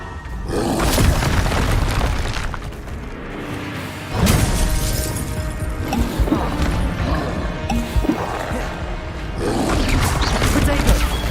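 Repeated heavy booms and crashing blasts from Confringo fire spells in Hogwarts Legacy combat, loud and recurring every few seconds amid dense battle noise.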